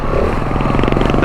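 A Honda XR650L motorcycle engine putters loudly and close up at low revs on rocky terrain, with a rapid, even thumping through a short burst.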